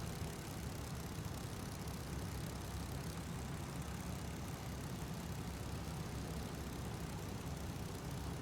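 A steady, unbroken engine drone from a Spitfire fighter plane in a flight video game, a constant broadband hum at even loudness throughout with no talk.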